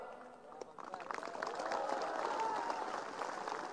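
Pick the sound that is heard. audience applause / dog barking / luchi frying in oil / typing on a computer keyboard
audience applause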